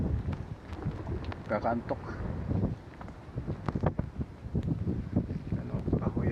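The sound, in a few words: wind blowing outdoors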